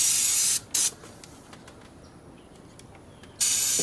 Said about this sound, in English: Just wash that all down real good. I love this brake part cleaner.